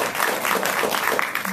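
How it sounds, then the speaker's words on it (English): Audience at a city council district debate claps in a loud, dense burst, a steady roar of many hands close by with faint murmuring mixed in. "We're going to do one more round of applause on this one."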